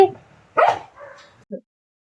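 A dog gives a couple of short barks and yips close by, with a brief quieter whine between them and silence after.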